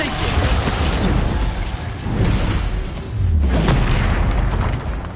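The Glacius spell effect in Hogwarts Legacy gives loud, continuous rumbling bursts with a booming, crackling texture and little pause, close and dense throughout.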